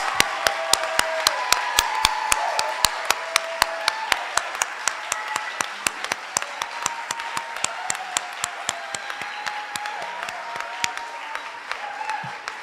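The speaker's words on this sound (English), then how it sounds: "everybody, please give them a round of applause. A loud one." An audience at a completion ceremony applauds the finishers with sustained, loud, even clapping that carries on steadily throughout, with crisp individual claps standing out near the front.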